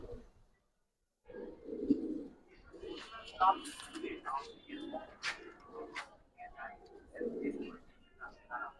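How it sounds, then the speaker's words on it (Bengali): Pigeons cooing on a rooftop where pigeons are kept, soft low coos repeating in short bursts close by, heard under a voice and other faint chatter. "এই হচ্ছে কবুতর"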